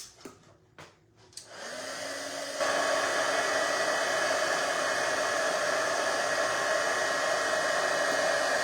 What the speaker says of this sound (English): And we'll heat this one up. With our heat tool.